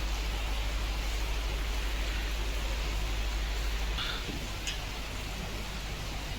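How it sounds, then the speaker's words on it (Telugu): Heavy rain pours down in a steady, dense hiss that stays loud and even throughout, easing slightly near the end, with a few faint clicks and no voices. "వర్షం ఇప్పట్లో తగ్గేటట్లు లేదు"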